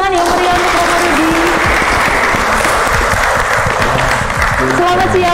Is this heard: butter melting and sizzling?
no